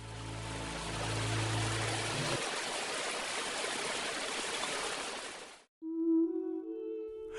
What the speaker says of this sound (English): The Abisko River flows through deep canyons, carrying water that began its journey from melting snow and distant mountain streams.